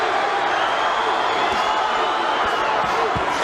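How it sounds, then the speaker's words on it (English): A loud boxing arena crowd roars steadily throughout a 1999 Johnny Tapia vs Paulie Ayala fight, with chanting mixed into the dense cheering and a few dull thumps underneath. "The crowd chanting, Johnny, Johnny."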